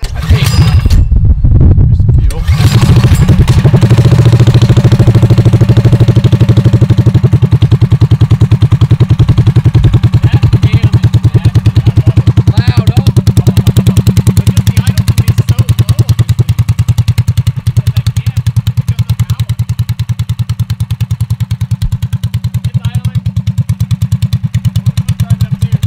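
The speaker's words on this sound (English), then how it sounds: "get the go-karts going" Go-kart engines run steadily and loudly, with a continuous low motor drone and revving throughout, a brief burst of clatter near the start, and no talk heard.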